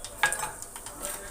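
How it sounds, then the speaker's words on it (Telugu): Tempering spices dropped into two ladles of hot oil in a pan crackle and sizzle sharply at first, then settle into a softer, steady frying hiss with light stirring. "ఆయిల్ వేడైన తర్వాత పోపు దినుసులు యాడ్ చేస్తున్నాను"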